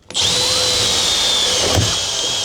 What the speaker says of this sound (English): So we're going to go down through metal into wood with these Tex screws.